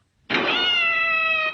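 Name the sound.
cat yowling after its tail was stepped on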